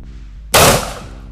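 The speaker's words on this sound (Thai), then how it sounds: "ทดสอบตัวปืนกระบอกนี้นะครับคาร่าอาร์มจำนวน3นัดนะครับ" A Kral Arms Tavor-style bullpup shotgun fires a single loud, close blast at a shooting club test session, with a sharp crack followed by a decaying echo.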